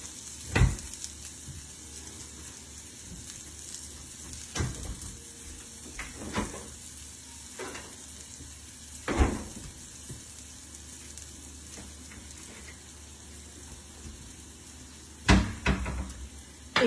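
Breakfast food fries in a pan with a faint, steady sizzle, broken by a few sharp clunks and clatters of kitchen utensils or cupboards.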